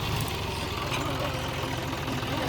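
A John Deere tractor engine idles steadily nearby, a continuous low rumble with a faint knocking throb that never lets up.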